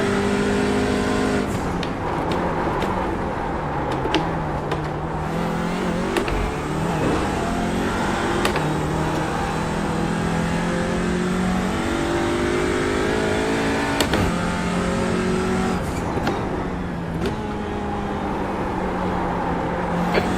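Touring race car engine revving and accelerating on track, loud and continuous throughout, with repeated rising pitch sweeps through gear changes and brief drops as the throttle eases between pulls.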